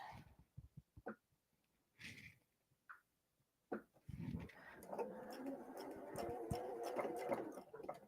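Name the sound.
sewing machine stitching a separating zipper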